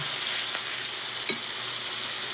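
Pan-seared steak sizzling steadily in a hot frying pan, a close continuous crackle with a couple of brief utensil scrapes, no talking.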